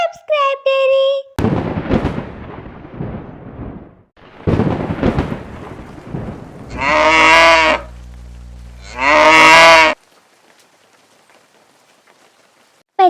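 A cartoon cow moos twice in long, loud, drawn-out calls during a rainstorm, with rumbles of thunder and steady rain before and between the calls and brief high cartoon sounds at the edges.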